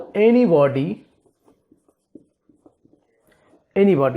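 Pen writing words by hand on paper, a run of faint, scattered scratches and taps in a quiet pause between stretches of someone speaking.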